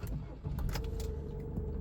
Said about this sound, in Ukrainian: Заводжу автомобіль